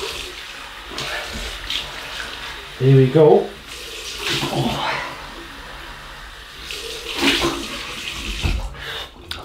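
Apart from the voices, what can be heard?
cold water running from tap for shave rinse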